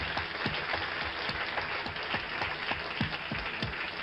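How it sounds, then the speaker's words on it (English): Applause from a television studio audience, a dense steady patter of many hands clapping, heard faintly and continuously without speech. "Now, I'll applaud."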